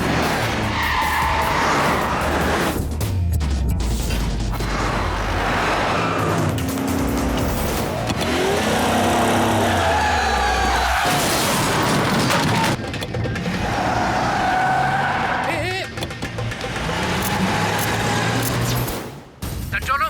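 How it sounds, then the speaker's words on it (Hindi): A getaway car tearing off after running a signal and causing an accident, tires skidding and squealing loudly under a dense, dramatic mix of engine roar, music and voices, with intense activity continuing throughout. "AP36 A111 गाड़ी अभी अभी सिग्नल तोड़कर भागी है।"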